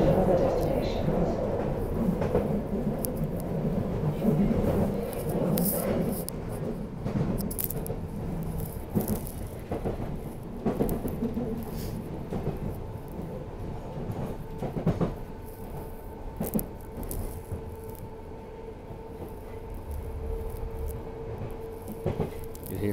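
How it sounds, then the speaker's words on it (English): A London Underground Piccadilly line train runs through the tunnel with a continuous loud rumble and rattle, its motor tone shifting as it changes into a higher gear, heard from inside the carriage. "You'll hear him change into higher gear now in a second."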